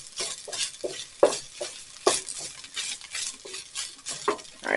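Ground beef for a casserole sizzles in a pan while a utensil stirs and scrapes it in repeated bursts, close and clear with no voices.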